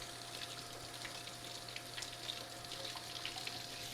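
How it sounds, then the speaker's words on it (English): Steady running tap water as an orange is rinsed under it at a sink, a continuous broadband hiss close by with small splashy fluctuations, no talking. "So I'm going to just go wash my orange off, rinse it well"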